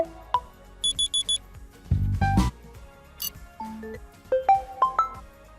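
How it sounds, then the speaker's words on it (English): Ringtones on a OnePlus Nord CE 2 phone are previewed one after another, short bright electronic chimes, beeps and rising melodic tones, loud and close with brief gaps between them. "Select your choice of ringtone."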